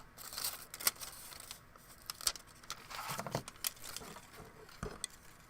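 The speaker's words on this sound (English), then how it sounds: "Just going to trim those down" Scissors snip off ribbon ends in several quick, crisp cuts up close, interspersed with light clicks and handling rustles from a papercraft session.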